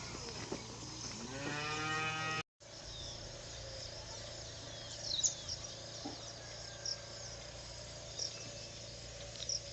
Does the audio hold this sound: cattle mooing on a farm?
yes